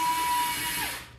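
A power driver whirs steadily while screws go into an ARRMA Gorgon RC car during a build, the close motor tone winding down at the end.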